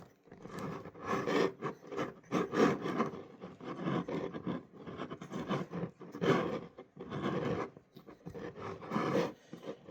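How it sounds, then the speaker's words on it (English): A spatula scrapes around the inside of a sourdough starter jar, giving a series of close, soft rubbing strokes in an uneven rhythm with short pauses between them. "That way I can scrape down the side of my jar."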